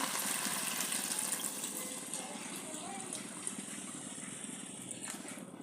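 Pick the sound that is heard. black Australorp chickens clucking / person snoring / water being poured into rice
water being poured into rice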